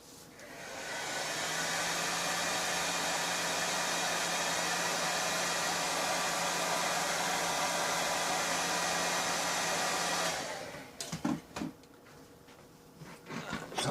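A hair dryer blows steadily and loudly for about ten seconds to reactivate Mod Podge on a handmade craft figure, then cuts off, leaving a few faint knocks and handling sounds.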